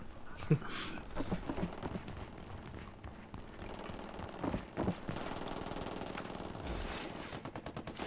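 A gun turret fires in the video game Ghost Recon Wildlands, with short bursts of automatic gunfire and scattered shots at moderate distance, mixed with game sounds and occasional quiet voices.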